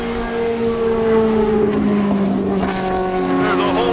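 A wide Formula One feeder series race car at speed, its engine a loud, steady high-pitched drone with shifting tonal harmonics throughout, with faint voice-like sound mixed in.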